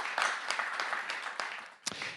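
An audience claps for a panel guest at an aeronautics discussion, with a brief patter of scattered hand claps that stays moderate and fairly distant.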